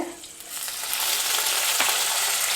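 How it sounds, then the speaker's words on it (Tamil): Garlic frying in hot oil in a pan, a loud, dense, close sizzle that swells and then holds steady. "பூண்டு போட்டுட்டு நல்லா அது பொரிய ஆரம்பிக்குது இப்போ"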